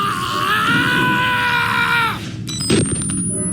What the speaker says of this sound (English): the weird cries and screams coming out of Silo 1